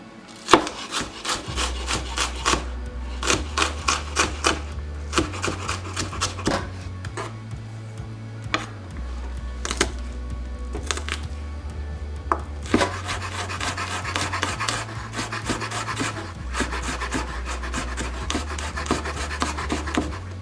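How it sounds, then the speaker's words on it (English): Knife chopping onion and garlic on a cutting board for vegan carrot rice, in bursts of rapid, crisp taps close by, broken by short pauses, with a steady low hum underneath. "We're just going to cut up some onion for the rice, alright? And garlic."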